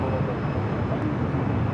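Jet airliner rolling for takeoff on runway 24 left at Los Angeles International, a steady broadband engine roar holding constant and fairly loud throughout, with no distinct voices over it.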